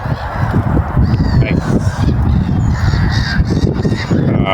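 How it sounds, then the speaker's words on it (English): Young swan honking close by, a series of loud, rough, irregular honks and calls in quick succession outdoors. "Oh, a swan."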